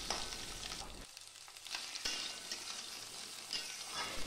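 Eggplant pieces hiss and sizzle loudly in hot oil with nigella seeds and dried red chilies, a dense close frying sound with a couple of brief dips as the pan is stirred.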